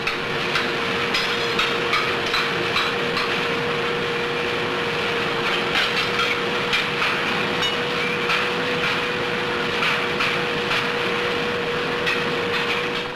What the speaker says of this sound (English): After it has been assembled, the box is pushed under the blower and filled with sand.